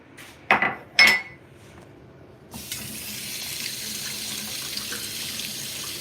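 Two sharp clanks of dishes, then a kitchen tap turns on and warm water runs steadily into a sink, a constant hiss until the end.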